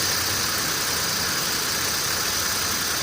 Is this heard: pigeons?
no